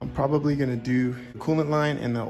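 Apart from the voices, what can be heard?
No everyday noise stands out behind the speech.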